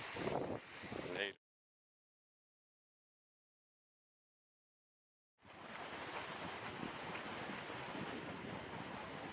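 Wind buffeting a microphone in broad rushing gusts, with a sudden cut to silence in the middle before the blustery roar returns.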